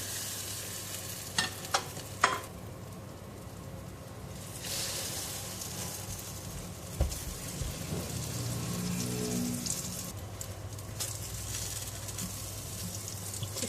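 Egg-soaked bread frying for French toast in a hot pan gives a steady, close sizzle throughout, with a few sharp clicks and taps of a utensil early on and a brief thump near the middle.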